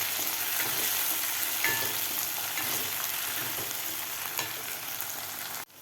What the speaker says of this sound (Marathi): टोमॅटोसुद्धा आपल्याला थोडंसं सॉफ्ट होईपर्यंत आपल्याला हे परतून घ्यायचं आहे कांद्याबरोबर.